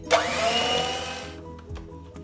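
An electric hand beater whirs through vanilla cake batter as an egg is beaten in, a bright steady motor whine that starts sharply, runs for over a second and then cuts out, leaving faint clatter.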